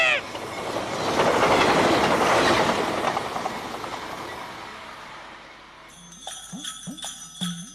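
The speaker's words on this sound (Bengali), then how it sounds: "ট্রেন আইতাছে, আমাকে দেরি হইয়া যাইব।" A passing train in a rural setting, heard as a loud, broad rumbling roar that swells over the first few seconds and then fades, giving way to quieter chirping sounds near the end.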